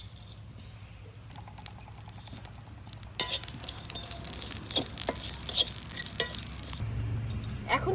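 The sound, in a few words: fennel and radhuni spices frying together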